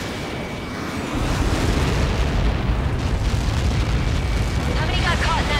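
A massive explosion in the combat flight game Ace Combat 7, during the Lighthouse mission, bursts in after a quieter second and becomes a loud, sustained roaring blast that lasts to the end.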